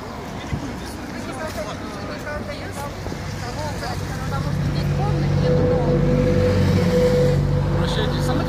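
Cars and other traffic drive past on a road near the turn to the Aleksin quarry in Klin, a steady rumble that grows louder and nearer toward the end, with crowd chatter and voices in the background.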